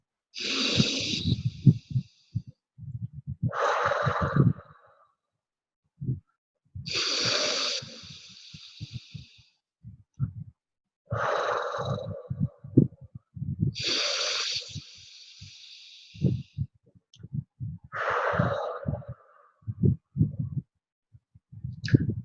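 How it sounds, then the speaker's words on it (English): A person takes slow, deep breaths close to the mic, with long airy inhales and exhales alternating in an even rhythm, separated by short silences, with no talking. "3 deep breaths."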